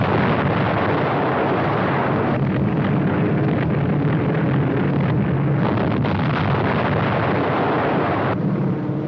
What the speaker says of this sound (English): Nazi positions behind the lines are incessantly bombed